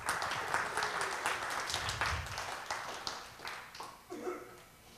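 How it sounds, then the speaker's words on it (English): A crowd clapping and cheering in a room, steady applause that thins out toward the end. "So yay, everybody clap."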